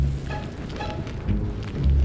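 A hailstorm in a Tamil comedy cartoon: dense, continuous pattering of falling ice and rain, with heavy low thuds and rumbles surging now and then, and no voices.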